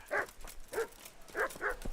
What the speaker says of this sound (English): Yeah, be quiet, dog.